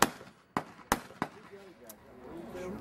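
20 gauge shotgun shots at an outdoor skeet shoot-off, several sharp loud reports in quick succession that fade into open-air ambience, with faint voices afterward.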